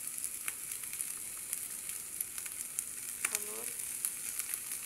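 Okra and small fish fry in a pan of hot oil with potato, ahead of spices going in, giving a soft, steady sizzle with faint crackles and occasional stirring clinks.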